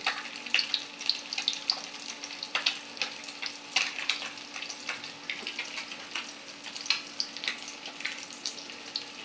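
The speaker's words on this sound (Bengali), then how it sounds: "মাছটা দেখুন ভাজা ভাজা হয়ে যাইতেছে" Fish frying in a pan for a village-style tomato bhuna, a soft continuous sizzle with sharp crackling spits and pops scattered irregularly throughout, close by and with no talking.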